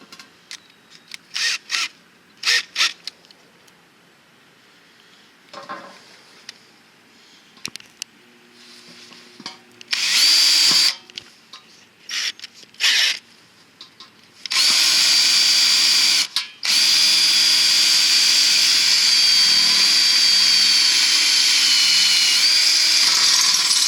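Power drill fitted with a carbide bit boring into a stainless steel Sanke keg, with short whining bursts at first and then a long continuous loud grinding screech near the end, all close up.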